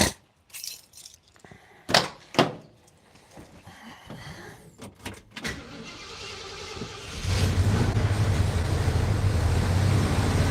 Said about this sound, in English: We're going to turn the engine over